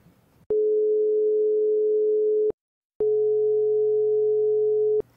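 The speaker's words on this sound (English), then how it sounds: "What if we rapidly alternated between the two tones and blended them together as best as we can?" Two pure sine tones at 440 Hz and 415 Hz, rapidly alternated and blended, play as two loud, steady two-second bursts separated by a half-second pause, with no voices.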